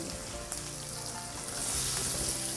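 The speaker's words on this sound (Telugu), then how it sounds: "ఆలు కొంచెం వేగనిచ్చి బాగా వేగని" Potatoes fry in a pan for dum aloo, giving a dense, steady sizzle with crackling that grows a little louder toward the end.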